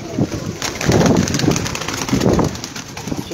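Big pigeons coo in several soft, rolling calls close by, with faint steady background noise and no voices.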